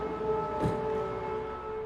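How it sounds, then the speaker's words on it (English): Air raid siren wailing over a Ukrainian town during the Russian invasion, a steady distant tone alone in the air with a brief low thump partway through. "Then the sirens go off."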